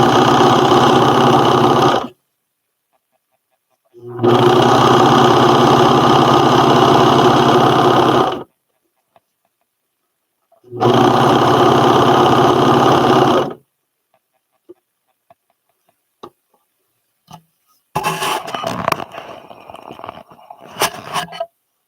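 A serger sewing machine whirs in three separate bursts of rapid, even stitching, each lasting a few seconds with silent pauses between, followed by a few light clicks and handling clatter near the end.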